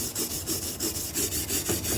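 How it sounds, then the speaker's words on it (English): A rusty kerosene heater being scrubbed with rust preventer gives a steady run of rhythmic, close, rasping strokes, roughly four per second, bright and scratchy with no talking. "to clean basically all the rust that was built up on here"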